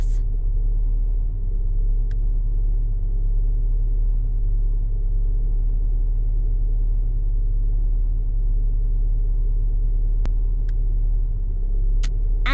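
A car engine in the video game Road 96 hums at a low, steady rumble for the whole stretch, with no talking and only a few faint clicks near the end.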